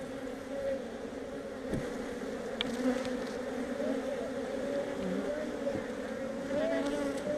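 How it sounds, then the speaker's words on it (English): A steady, close insect buzz of many honeybees droning continuously around a hive being installed, with faint rustling and a brief low thump partway through. "How many bees are on my head?"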